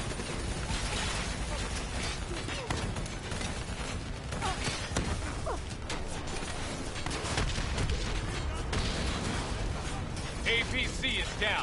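Sustained gunfire aimed at a VTOL in the video game Black Ops 3, a dense continuous barrage of shots mixed with mechanical battle noise, loud and unbroken throughout, with voices talking over it.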